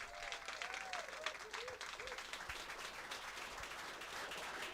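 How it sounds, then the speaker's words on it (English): An audience at a poker tournament in New Zealand gives sustained applause, a dense wash of clapping from many hands heard at a moderate distance, with faint voices mixed in. "we would like to request a round of applause for everyone who came out to support this"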